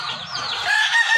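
Backyard chickens kept in a small home garden, a close, loud cluck rising into a drawn-out crowing call, brief and alone.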